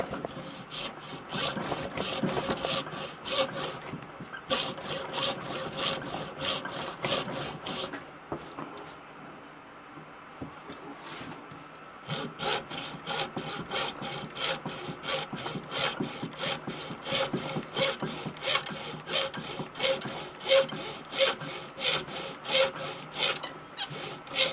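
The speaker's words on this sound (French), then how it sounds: "C'est vraiment une petite scie hein, qui va partir de travers, c'est sûr" A small hand saw cuts through wood in steady, rapid back-and-forth rasping strokes, pausing briefly midway before resuming at a brisk, even rhythm, close and fairly loud.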